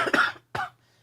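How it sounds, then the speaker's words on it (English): A man coughs twice close to the microphone, a quick double-burst cough followed by a single sharper one, then quiet. "And I'm still coughing."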